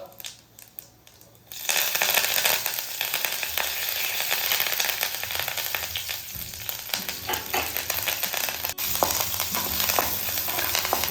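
Cumin seeds and curry leaves dropped into hot ghee in a pan, bursting into loud, steady sizzling and crackling that continues after a brief quiet start, with occasional stirring scrapes.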